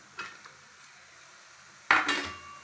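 Spinach dropped into a pan of vegetable chow chow upma and stirred, giving a light scrape early on, then a louder burst of stirring and soft sizzle near the end; no talk.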